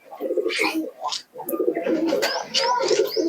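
Giribaz flying pigeons coo in soft, repeated low bursts, close by and fairly loud, with some brighter higher calls mixed in throughout.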